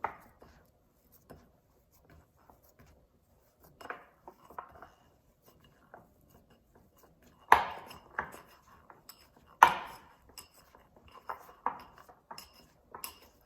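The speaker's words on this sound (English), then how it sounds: "we're just gonna knead this mixture and make it into a small dough" Lentil soup dumpling dough mixture worked by hand in a small bowl, with soft irregular pats, squishes and occasional sharper knocks against the bowl, close and fairly quiet, with no talking.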